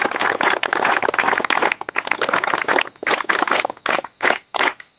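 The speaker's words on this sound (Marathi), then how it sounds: "आणि त्यासाठी आपण सगळ्यांनी त्याच्यासाठी एक अभिवादन म्हणून सगळ्यांनी टाळ्या वाजवले पाहिजे" A crowd bursts into applause as a salute at a Teachers' Day celebration, dense continuous clapping for about three seconds before it breaks into scattered, separate claps that fade toward the end.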